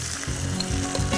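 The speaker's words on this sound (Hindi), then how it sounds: "एक बार अच्छी से मिलाएं इसे।" Masala with fried chillies and potatoes sizzles steadily in a pan while being stirred, a continuous loud frying hiss with soft scraping strokes of the spoon.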